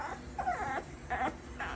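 A Chihuahua whimpers in three short, high, plaintive whines, close by and fairly soft, with brief quiet gaps between them.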